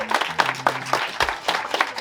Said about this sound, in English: Have a little round of applause for you being here.